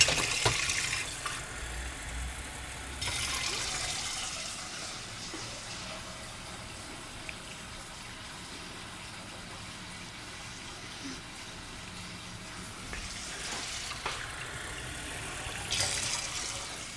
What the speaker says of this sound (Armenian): Սառը ջուր եմ լցնում